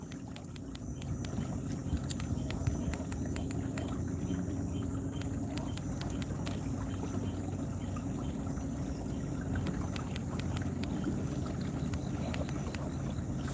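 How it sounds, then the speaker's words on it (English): A boat motor runs on a lake at night, a steady low drone with constant broadband hum that holds evenly throughout, moderately distant, with faint ticking and splashing above it. "Sound like I hear a boat running."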